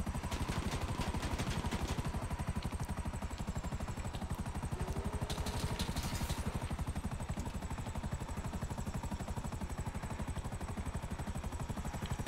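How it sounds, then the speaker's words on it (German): A helicopter in the online game GTA 5 Online runs steadily with a rapid rhythmic rotor chop and engine drone, faint and continuous throughout, with brief clatter in the middle. "Da holt er sich den fetten Heli"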